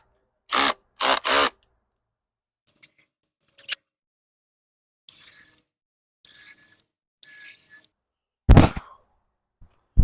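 A drill boring holes and driving screws into sheet-metal roofing on a forest cabin: two short, loud bursts near the start, then scattered quieter whirs and clicks with pauses, ending in one more sharp burst.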